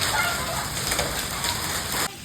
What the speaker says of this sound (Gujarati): કરા પણ પડવા માંડ્યા છે અને વરસાદ પણ ઘણો આવે છે